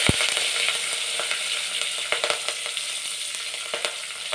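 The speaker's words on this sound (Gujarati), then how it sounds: "હવે લસણ કકડે એટલે હિંગ નાખી અને મીઠા લીમડાના પાન" Garlic, asafoetida and curry leaves sizzle in hot oil for a village-style kadhi tempering, a steady close hiss dotted with sharp crackles and pops, with no voices.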